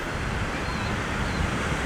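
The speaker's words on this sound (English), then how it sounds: "You got some pretty good waves coming in here." Waves roll and break steadily on a windy Lake Ontario beach in Canada, a continuous loud wash of surf mixed with wind noise on the microphone and no talking.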